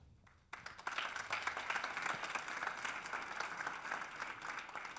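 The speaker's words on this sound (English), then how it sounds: "give him a warm applause" Audience applause welcoming a speaker at a Python and free software talk: after a quiet opening moment, clapping breaks out and swells into a steady, moderately close round from a modest crowd.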